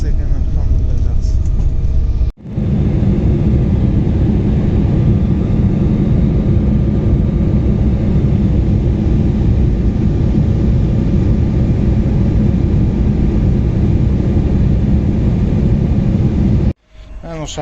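Steady, loud airplane cabin noise, a deep continuous engine and air roar, runs almost unbroken throughout, with brief dropouts near the start and end.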